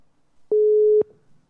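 A single steady telephone line tone, about half a second long, sounds while a call is placed to a guest during a radio show broadcast; it is clear and alone, with no voices.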